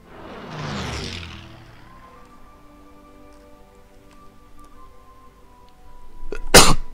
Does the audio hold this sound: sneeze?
yes